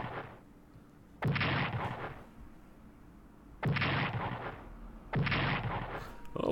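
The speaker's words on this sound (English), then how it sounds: "I'm going to go ahead and try to attack Brussels once again with a bombing run" Bombing-run explosions over Brussels in the Strategic Command war strategy game, three heavy booming blasts separated by quiet gaps, each loud and sustained with a rumbling tail.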